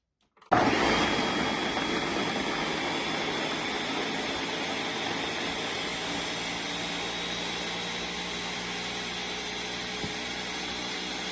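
An electric blender whirs steadily as it blends cut coconut for homemade juice, starting abruptly and holding a loud, even, continuous roar with no talking.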